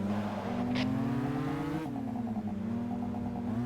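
A race car engine in Gran Turismo 5 holds a steady droning note with a rising rev, then a brief dip and a settle back to a constant whine, alone without talk.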